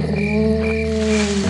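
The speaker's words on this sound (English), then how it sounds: "Instead of a fanfare, you get crickets" Cricket chirping plays as the reward jingle in the educational video game Explorapedia, a steady, close insect drone that fills the whole moment on its own.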